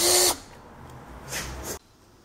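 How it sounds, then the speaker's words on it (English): Short bursts of a high-pitched power drill whirring as it drills out rivets on a Trans Am, starting loud then stopping, followed by a quieter second burst that cuts off abruptly. "You just kind of get your drill in there and slowly go until it spins"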